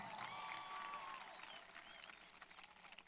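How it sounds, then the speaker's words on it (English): A high school graduation crowd applauds, a faint, distant wash of many clapping hands with whistles rising over it before the sound gradually thins out. "Please give them another round of applause."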